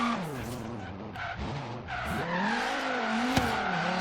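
A Dodge Viper drift build in Forza Horizon 3 slides through a drift zone with a loud, sustained tire skid over a steady engine drone, with one sharp click near the end.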